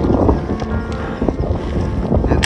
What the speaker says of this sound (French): Il y a énormément de vent donc on s'entend pas.